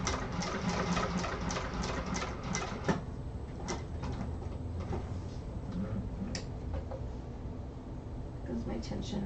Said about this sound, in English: my machine does not like sewing just cottons very often